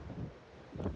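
Strong wind blows outdoors in Skagway, Alaska, beside whitecapped water and trees, with a steady, close, rushing buffet that swells in a gust near the end and has no voices.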